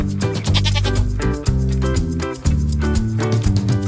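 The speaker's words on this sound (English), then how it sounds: "goat." A goat bleats in a few wavering, voiced calls that run through the whole few seconds, loud and close, with steady tonal layers beneath that may be backing music.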